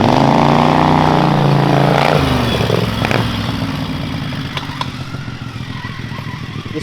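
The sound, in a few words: mini bike torque converter squealing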